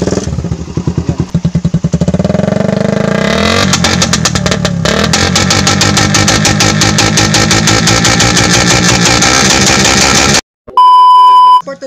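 A carbureted Suzuki Raider 150 motorcycle fitted with a rapid backfire setup revs loudly, its engine rising into a dense, continuous stream of crackling pops and bangs close up, then cutting off abruptly before a few electronic beeps.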